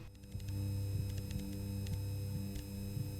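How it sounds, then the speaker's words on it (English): A steady 250 Hz sine tone from lab equipment in the game Stories Untold holds a constant low hum, with faint clicks and ticks scattered over it. "we need to set it to 250 Hz sine wave with amplifier gain set to 1"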